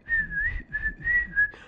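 A person whistles a short melodic tune of several clear, sustained notes separated by brief pauses, fairly quiet and heard alone without speech.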